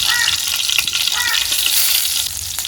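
Torn dried red chillies fry in hot oil, a close, steady sizzle with sputtering crackles and a few stirring clinks; no talking.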